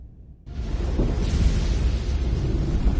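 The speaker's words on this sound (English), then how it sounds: "The storm is getting worse." A thunderstorm in a video game starts abruptly as a loud, steady roar of wind and rain with a deep rumble under it, holding at full strength and without pause to the end.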